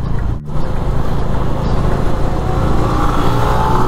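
A Bajaj Dominar 400 motorcycle rides at speed on a highway, its engine a steady loud drone mixed with heavy wind rush, a brief dip near the start, then a slight rise in pitch toward the end.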